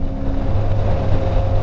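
Engine of a CFMOTO 450 MT (Ibex) motorcycle pulling away from a low start in a high gear, a steady close droning hum with low rumble and wind rush.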